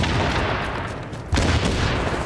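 Gunfire in The Division on Xbox One during a Last Stand match: a dense, continuous wash of loud distant rifle and automatic fire, thickening into a heavier burst partway through, with no talk over it.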